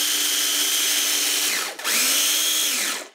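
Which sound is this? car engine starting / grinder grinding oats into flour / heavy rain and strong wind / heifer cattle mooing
grinder grinding oats into flour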